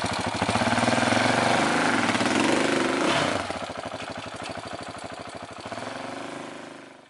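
Adventure motorcycle engine revving hard on a muddy trail while stuck, a loud, steady drone that eases slightly and settles into a lower pulsing chug near the end.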